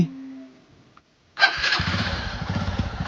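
A motorcycle engine is button-started after a brief pause: a sharp starter whir catches and settles into a steady, close idle with rhythmic low pulsing.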